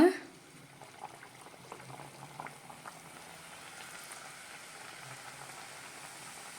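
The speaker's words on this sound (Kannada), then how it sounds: "ಈಗ ಎಣ್ಣೆನಲ್ಲಿ ಹಾಕೋಣ. ನೋಡಿ, ಒಂದು ಬಾಂಡಿನಲ್ಲಿ ಎಣ್ಣೆ ಇಟ್ಟಿದ್ದೀನಿ. ಎಣ್ಣೆ ಕಾದಿದೆ. ಒಂದೊಂದೇ ಹಾಕೋಣ." Nippattu dough pieces go one by one into hot oil in a pan, starting with a brief splash and then a steady, dense frying sizzle that stays even throughout.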